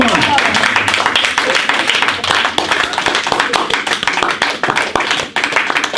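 A church congregation claps in praise of the Lord during a worship service, a loud, dense, steady stream of hand claps that never lets up, with voices mixed underneath.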